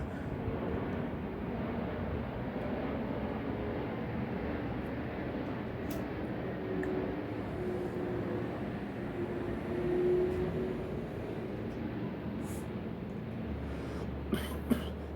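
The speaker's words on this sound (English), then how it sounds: "Sorry about the fucking plane." A distant airplane passes overhead as a low, steady rumble that swells slightly midway, with a few faint clicks near the end.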